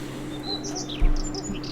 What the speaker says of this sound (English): It's always amazing when you rock up into this map and you hear the bird sound